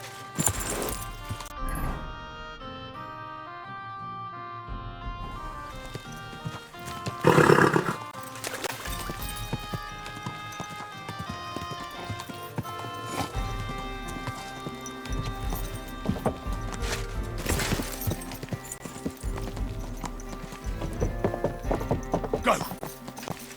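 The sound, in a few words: horse hooves and neighing in Kingdom Come: Deliverance 2 video game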